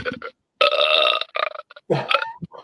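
A novelty sound button plays a loud, close recorded burp, a long drawn-out belch followed by a shorter gurgling one, with no talking.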